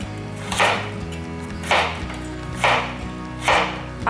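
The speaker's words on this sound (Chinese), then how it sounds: "把红萝卜对半切，这里切成条状。" A peeled carrot, halved and cut into strips with a knife on a board, four distinct chopping thuds at a slow, even pace over soft background music.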